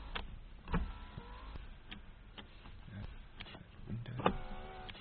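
The power windows of a 1986 Toyota Cressida GLX-i whir in short motor bursts, with clicks and a louder clunk as a window stops, all faint and close with no talking.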